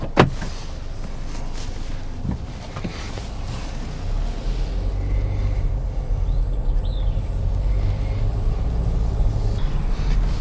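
A 2021 Hyundai Venue pulls away and drives, heard from inside the cabin as a steady low engine and road rumble that builds slightly as it gets moving, with a few small clicks near the start.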